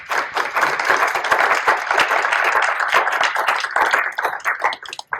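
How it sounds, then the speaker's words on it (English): An audience applauding at a market summit, a dense, steady burst of clapping from many hands in a room that carries on for several seconds before thinning out at the end. "let's give them a round of applause."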